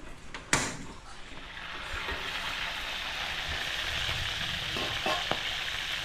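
Dalag fish frying in cooking oil, a continuous close sizzle with a sharp clatter near the start and a few faint knocks later, no talk.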